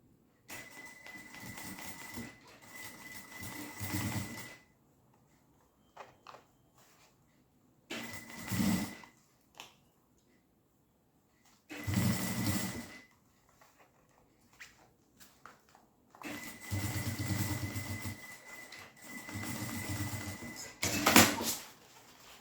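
Sewing machine stitching a thermal water bottle holder, several short bursts of rapid mechanical whirring separated by quiet pauses, close and moderately loud.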